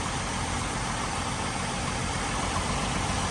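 A Jeep Wrangler YJ engine idles steadily close by, a constant dense rumble with a broad hiss and no change in pace.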